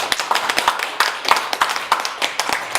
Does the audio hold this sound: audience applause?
yes